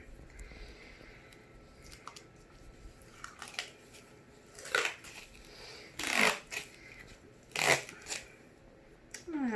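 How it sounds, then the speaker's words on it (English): Duct tape being stretched and pressed onto a handmade notebook cover, with several sharp ripping and crinkling bursts spaced out over quiet handling noise, close and fairly loud. "since I have duct tape, I'm just going to duct tape it."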